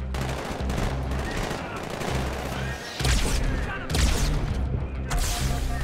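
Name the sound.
SMG gunfire at bugs in video game Halo 2 Anniversary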